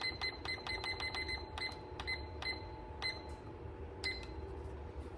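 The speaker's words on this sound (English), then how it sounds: "I'm going to go ahead and set the timer for 28 minutes." A kitchen timer being set to 28 minutes: quick bursts of sharp clicking ticks as the dial turns, close by, over a low steady room hum.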